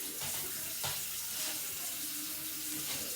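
Hot water runs steadily from a kitchen tap in a continuous, close hiss, with faint clatters over the flow.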